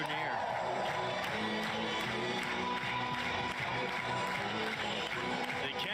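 A home crowd at a college baseball game cheers and claps after a home run, a broad steady roar with scattered whoops, heard beneath continuous broadcast commentary.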